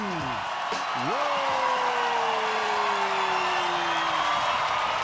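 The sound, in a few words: crowd cheering at a breaking battle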